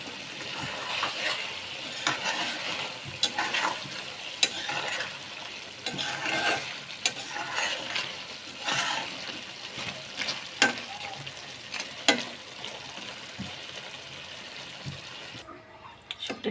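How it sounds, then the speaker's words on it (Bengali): Dried fish (shutki) being stir-fried with cooked-down spices in a pan, a steady sizzle under intermittent scraping and stirring strokes, close and fairly even, with no voices. "মশলাটা কষানোর প্যান শুটকি দিয়ে দিলাম।"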